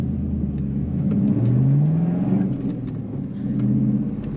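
A 1999 Chevrolet Camaro Z28 engine rises in pitch as it accelerates, a deep rumbling rev heard from inside the car, then eases and climbs again.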